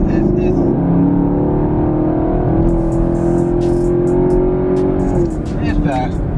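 A 2018 Chevrolet Camaro SS drives with a steady, loud engine drone throughout, heard from close by, with a slight shift in pitch near the end.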